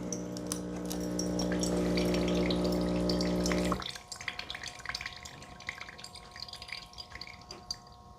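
Ninja Luxe Cafe ES601 espresso machine brewing, with a steady pump hum and hiss for several seconds that stops abruptly, followed by soft drips and trickling coffee into the cup.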